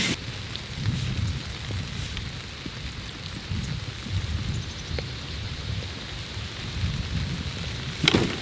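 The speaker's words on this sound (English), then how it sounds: "it's raining right now" Heavy, steady rain pours down over a cornfield being planted through a thick mulch of winter rye, hairy vetch and crimson clover. It makes a constant broadband hiss with a low rumble, and there are no voices.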